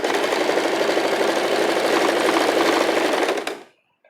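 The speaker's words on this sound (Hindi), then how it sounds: "इसी तरह से दूसरे साइड का भी मैं सिल ले रही हूँ गले का।" A sewing machine runs in one steady, loud, continuous burst while stitching the neckline of a cami top, its rapid needle rhythm holding for about three and a half seconds before stopping abruptly.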